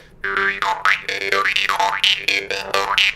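A twangy jaw harp plays rapid, evenly paced double strikes, struck both toward and away from the player, its buzzing tone bending up and down in a steady rhythm, alone and close.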